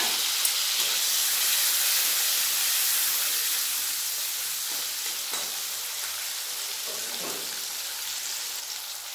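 Grated ginger fries in a pan for a vegetarian soybean, pointed gourd and potato curry, a steady loud sizzle and hiss throughout with faint scraping of stirring.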